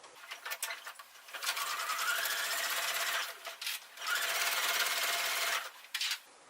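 Sewing machine stitching a foundation paper piecing seam with backstitching at start and finish, running in two long steady bursts separated by a short pause, close and even.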